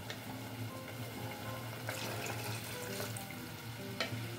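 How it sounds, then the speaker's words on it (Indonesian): About 200 ml of water poured into a pot of goat meat for nasi kebuli, a faint, steady trickle and splash with light sizzling underneath, close but quiet. "Tambahkan air juga ya"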